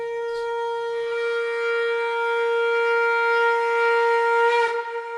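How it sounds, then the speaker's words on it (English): A conch shell, or shankh, is blown in one long steady drone that swells slightly toward the end before breaking off, a single sustained horn-like tone heard alone. "This was the sound of a shank or a conch,"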